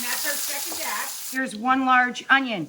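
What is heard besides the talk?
chicken sizzling in frying pan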